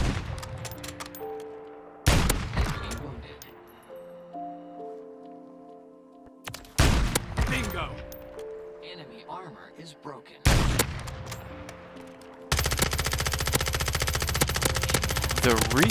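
Gunfire in a solo battle royale video game, with several sharp bursts of shots and rapid automatic fire between quieter stretches of musical tones, ending in a sustained loud barrage.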